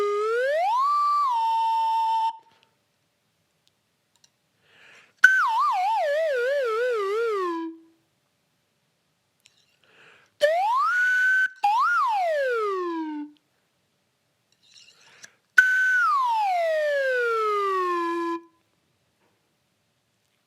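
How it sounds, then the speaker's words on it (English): A slide whistle plays four separate phrases with silent gaps between them: rising, falling and wavering glides, loud and close, with no other sounds. "I'll play my real slide whistle"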